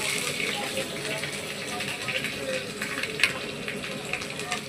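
Ginger dropped into browned onions frying in a pan, giving a steady, close hiss of sizzling oil that continues evenly throughout with small crackles, while a voice talks quietly underneath.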